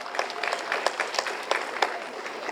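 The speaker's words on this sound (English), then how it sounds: "Please give another round of applause to our two wonderful guests" Audience applause at an eighth-grade moving-on ceremony at a school, a short burst of many hands clapping in a steady dense patter, moderately near and fairly quiet, with no talk over it.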